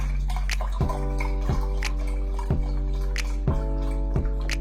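Chicken broth poured into cornbread dressing, heard as a steady liquid pour over a constant low hum, with about five regular soft splashy drops or thumps, no talk.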